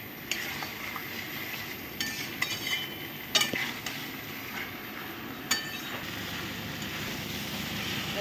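Fish head and potatoes being stir-fried together in a pan for a Bengali muri ghonto, with a low steady sizzle under repeated spatula scrapes and metallic clinks, fairly quiet and close, with no talking.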